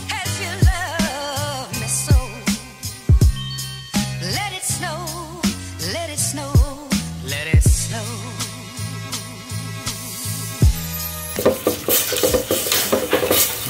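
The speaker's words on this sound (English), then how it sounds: "We need to mix it and stir it till all is combined." Sugar and raspberries being stirred in a pot, with a spoon scraping and knocking against the sides in irregular clinks and taps, close and fairly loud, with music playing underneath and no speech.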